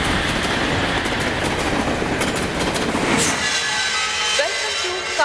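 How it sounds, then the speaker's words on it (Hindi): A passenger train running on rails toward Kamareddy railway station, a steady rumbling roll with clickety-clack throughout, loud and close, with a faint squeal near the end. "विशाखापट्टनम से शिरडी जाने वाली ट्रेन अभी थोड़ी देर में रवाना होने वाली है।"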